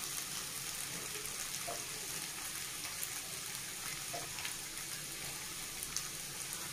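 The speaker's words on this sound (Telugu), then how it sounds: "మనం మీడియం ఫ్లేమ్లో పెట్టి ఒక 2 to 3 మినిట్స్ ఇలా ఫ్రై చేసుకోవాలండి" Potatoes fry in a pan over a medium flame, giving a steady, soft, continuous sizzle with faint crackles and occasional light pops throughout, with no voices.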